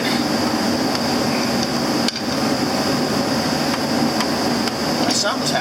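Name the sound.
impact gun on a John Deere 6200 tractor nut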